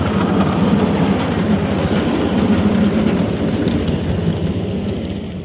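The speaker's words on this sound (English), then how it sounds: "Now this very industrial looking locomotive right here is a very interesting locomotive." A Plum Cove Studios GE23 miniature live steam locomotive runs at a live steam club meet, giving a steady, loud rumble with a rhythmic clatter of small wheels on track that carries on throughout, with no voices.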